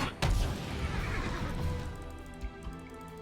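A horse neighs loudly in the Heroes of the Storm video game, a sharp whinny at the start that trails into a dense game soundscape with music and effects underneath.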